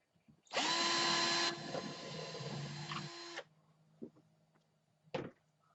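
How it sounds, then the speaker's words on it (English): A power drill whines loudly for about three seconds, boring through two wood boards with a steady motor tone that drops as it bites, followed by a few clunks. "I'm going to drill all the way through both of them boards there"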